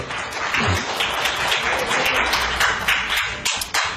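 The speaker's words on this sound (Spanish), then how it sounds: "Den un aplauso al Señor." Congregation applause during a Spanish-language church sermon, loud continuous clapping from many people filling the space, steady throughout with occasional sharper claps.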